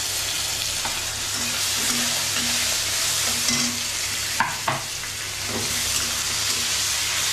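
Onions sizzling in a pan of hot oil with burnt cumin seeds for a fish curry, a dense continuous frying hiss with a few clinks and scrapes of stirring, and a voice speaking faintly underneath.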